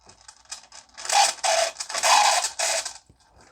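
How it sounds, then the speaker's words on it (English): Noisy gearbox of a Futaba FXT RC truck, a rough grinding rasp in several bursts of about half a second each, fairly close and alone. "But one thing I did notice is a bit of a sound from the gearbox."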